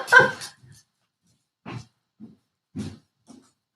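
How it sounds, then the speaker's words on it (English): A female dog gives a sharp bark followed by several short, quieter woofs and huffs spaced out with pauses, fairly close. "Now my dog has finally decided she's awake."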